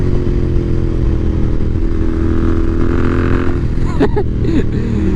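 A Royal Enfield Interceptor 650 motorcycle with an aftermarket exhaust rumbles loudly and steadily while cruising a country road, with a brief clatter near the end.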